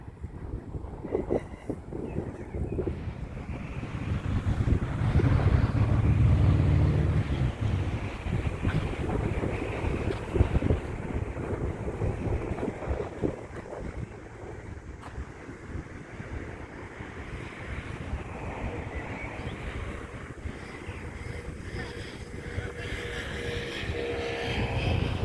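Strong wind buffets the microphone in a steady low roar at Pescara beach, Italy, with surf and open-air rumble underneath, no talking.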